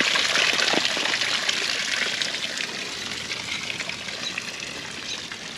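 Hot mineral spring water gushes and trickles steadily inside a small cave, a close, continuous splashing wash with no voices over it.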